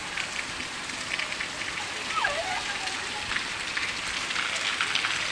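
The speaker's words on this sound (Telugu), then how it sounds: "ఫుల్ వాన." Heavy rain pours steadily in a dense, even hiss, loud and close, with a brief faint chirp and voices talking softly beneath it.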